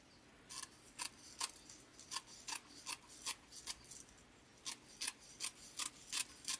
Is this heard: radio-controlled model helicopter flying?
no